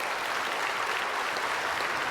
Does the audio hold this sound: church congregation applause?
yes